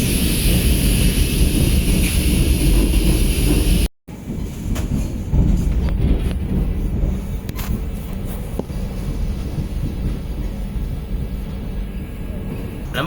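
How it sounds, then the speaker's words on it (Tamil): Vande Bharat express train number 22458 pulling out of Dehradun station bound for Anand Vihar, a steady loud rumble of rolling rail cars with faint rhythmic wheel clatter, a brief dropout partway through. "கரெக்டாக 7 மணிக்கு டேராடூன் ஸ்டேஷன்லேருந்து நம்மளோட வந்தே பாரத் கிளம்பியாச்சு"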